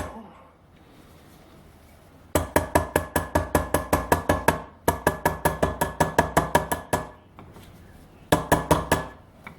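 Rapid, steady hammer taps on a gasket being cut out, coming in three close bursts of even rhythmic knocks, sharp and near, with brief pauses between.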